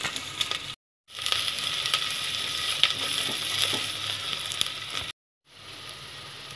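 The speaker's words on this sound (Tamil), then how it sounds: "அப்புறம் பூண்டையும் நம்ம போட்டுடுறோம். ஸோ இதை நல்லா வந்து வதக்கணும்." Garlic and onion sautéing in a pan for a Kerala-style fish curry, a steady close sizzle broken by two short silences, with faint stirring scrapes and no talking.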